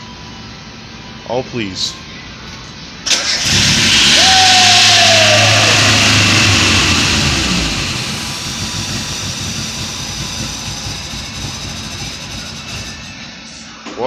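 A project vehicle's engine cranks over and catches, rising into a loud, steady roar that holds for several seconds before settling to a lower running drone, with a brief pitch sweep and voices talking over it.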